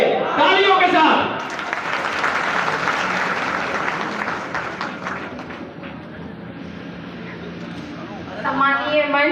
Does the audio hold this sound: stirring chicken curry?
no